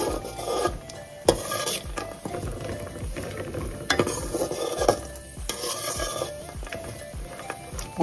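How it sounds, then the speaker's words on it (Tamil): Cashews and raisins fry in ghee in a pan for sweet pongal, giving a steady close sizzle with repeated scraping and stirring clatter from a spoon against the pan. "பால் பாயாசத்துக்கு முந்திரியும் திராட்சையும் நெய்யில் பொன்னிறமாக வறுத்து எடுத்துக்கோங்க."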